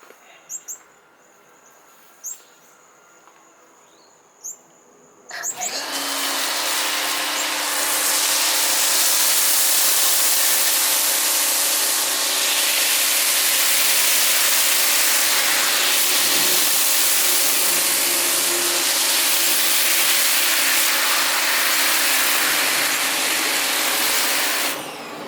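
An MJJC Foam Cannon Pro V3.0 with a 1.25 mm orifice on an Active 2.0 pressure washer, loaded with MJJC snow foam shampoo, bursts into a loud, steady hissing spray after a few faint clicks and holds it to the end.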